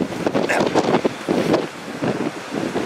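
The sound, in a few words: wind in Wellington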